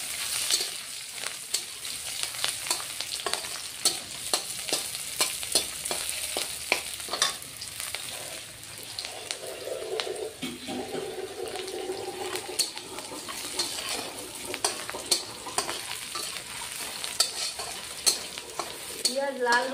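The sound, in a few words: onions and dried red chillies frying in a pan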